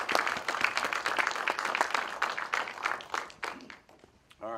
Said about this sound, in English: let's have a round of applause for Kevin Magee